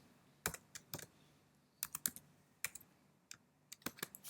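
Computer keyboard typed on while writing JavaScript code, with scattered individual key clicks and short flurries, fairly quiet and close in a silent room.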